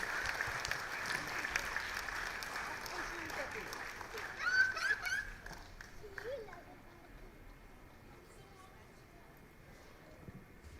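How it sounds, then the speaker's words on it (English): An indoor audience at the Hope Qatar Centre's 19th annual day celebration claps as a speaker walks on stage. The steady applause fills the hall, then gradually thins and fades toward the end. "Please give him a huge round of applause as he comes on stage"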